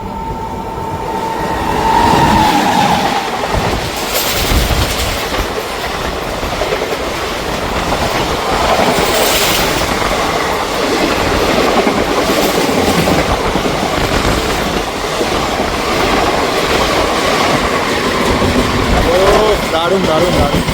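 A passenger express running between Howrah and Bolpur rumbles along with continuous clattering wheels while a second train passes close alongside, adding a loud, rushing swell and sharp metallic clacks.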